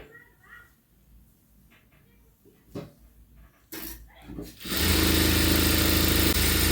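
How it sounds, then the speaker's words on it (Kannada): A sewing machine runs in a steady, fast mechanical whir while double-stitching a sleeve joint. Softer handling sounds and brief speech come before it, then the machine's loud continuous drone fills the last couple of seconds. "ಈ ಥರ ಡಬಲ್ ಸ್ಟಿಚ್ ಹಾಕೊಳ್ಳಿ"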